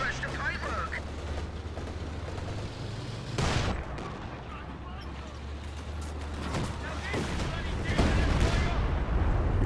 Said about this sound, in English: Booby trap goes off there, I think.